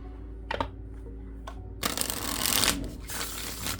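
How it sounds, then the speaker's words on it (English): A Bloodmoon tarot deck is shuffled by hand: a few crisp card taps, then a longer riffling, papery shuffle close to the microphone, with no voice over it. "let me give this a shuffle here."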